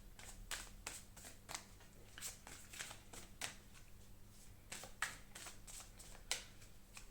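Tarot cards are shuffled by hand in a steady rhythm of soft riffling, repeated every half second or so. Close, quiet and alone, with no voice over it.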